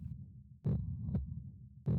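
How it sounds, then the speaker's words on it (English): A faint heartbeat in a video game thumps in slow, evenly spaced beats over a low background hum, quiet and alone. "A faint sound can be heard, one that sounds like a heartbeat"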